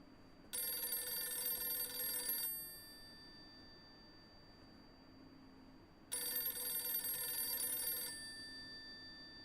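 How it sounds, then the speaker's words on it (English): A telephone rings loud and alone in the video game Silent Hill f, two long bell-like ringing bursts separated by a pause of several seconds. "Just answer the damn phone."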